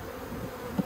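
Honey bees fanning inside a crowded, noisy backyard hive in an Australian apiary, a steady low buzzing drone with one brief louder swell near the end.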